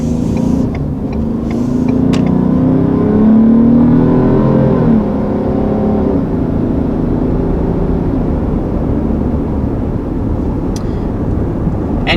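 2020 Ford Explorer Hybrid three-row SUV accelerating, a rising engine and drivetrain hum that climbs in pitch over several seconds, then settles into steady road noise heard from inside the cabin.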